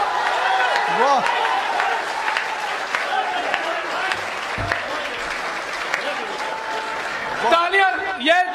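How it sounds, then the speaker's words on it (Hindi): Crowd applause at a Hindi political speech or rally, steady and broad, mixed with a voice speaking over it and a brief thump midway. "तालियां"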